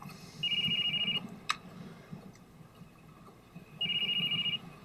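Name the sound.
phone ringing in Sopranos episode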